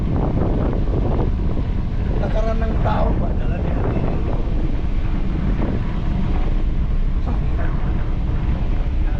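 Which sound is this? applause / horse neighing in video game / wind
wind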